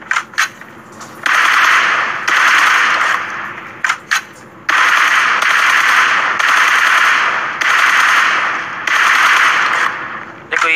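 Automatic gunfire from the mobile battle royale game PUBG Mobile in a training room, loud sustained bursts of rapid shots separated by short gaps and a few single cracks, with no talking over them.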